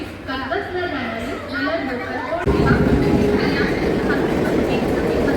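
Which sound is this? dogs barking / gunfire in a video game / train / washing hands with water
train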